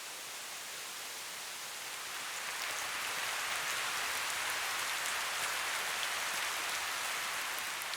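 Detailed rain ambience: a dense, even hiss of countless drops on surfaces, fairly quiet and swelling slightly after a couple of seconds, then holding steady with no voices.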